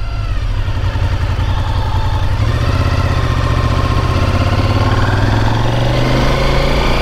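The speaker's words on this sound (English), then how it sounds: "It's got the classic V-twin sound to it" A Honda VTR1000 SP1 V-twin motorcycle engine runs steadily nearby, a loud, throbbing pulse that rises slightly in pitch partway through, with no voices.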